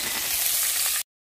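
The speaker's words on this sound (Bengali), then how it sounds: "আমি দিয়ে দিব আদা বাটা এবং রসুন বাটা, মরিচ কষা" Ginger and garlic paste hit hot oil in a pan used for frying hilsa fish, a loud crackling sizzle lasting about a second before cutting off abruptly to silence.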